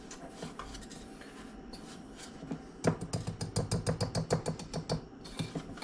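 A whisk beating egg into a fish batter for beer-battered smelt in a bowl, a fast steady run of rhythmic clinking strokes after some quieter scraping, close and clear with no talking.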